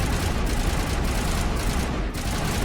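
Sustained Mass Effect combat gunfire in a corridor fight, with dense, loud, overlapping shots rattling continuously from start to finish.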